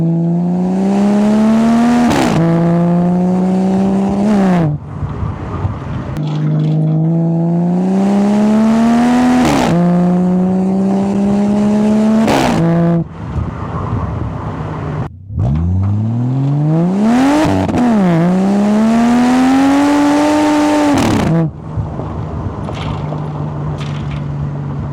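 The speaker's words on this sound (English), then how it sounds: "we'll get some outside clips of what it sounds like if you were behind the car driving" An XR50 Turbo ute fitted with an X-Force exhaust, heard from behind, repeatedly accelerates hard through the gears, its loud exhaust note climbing in pitch and dropping sharply at each shift, with turbo whoosh and blow-off between pulls.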